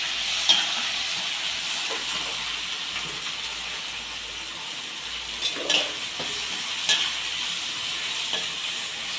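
Onions sautéing in a pan for prawn thokku, a steady soft sizzle and hiss running throughout with a few brief clinks of stirring, heard alone at moderate level.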